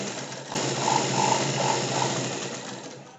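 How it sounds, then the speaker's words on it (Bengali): A sewing machine runs a steady line of stitching through blouse fabric, a close, continuous mechanical hum with faint rhythmic clicks and no talking. "এর ওপর থেকে আরও একটা সেলাই চালিয়ে দেবো"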